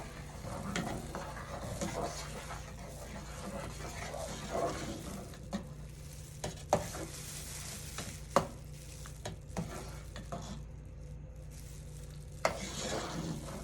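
Sea moss renders down in a pan, a steady soft sizzle and bubbling with occasional stirring clicks and scrapes of a utensil against the pan, close and continuous.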